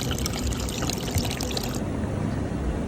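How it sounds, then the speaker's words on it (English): Water overflowing in the middle and splashing onto a shed floor, washing debris away: a steady, close, broadband rush of splashing that runs without pause, its hiss thinning slightly near the end. "It's overflowing in the middle there and splashing on the floor and washing it all away."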